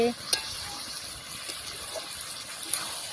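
Meat being sautéed in a pot over a clay stove at an outdoor picnic, a steady close sizzle and hiss with a few faint clinks, heard alone.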